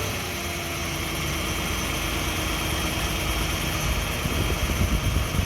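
A car engine idles while its cooling system is being bled, then gets a light press of gas, the steady close rumble growing slightly louder and rougher toward the end.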